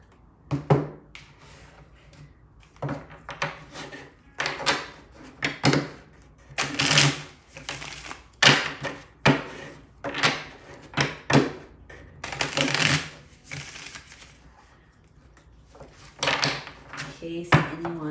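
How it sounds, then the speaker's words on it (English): Dark Mansion tarot card decks being shuffled, giving a series of close, crisp riffling and slapping bursts at an irregular pace, with quieter gaps between them. "But I just wanted to give them another quick shuffle."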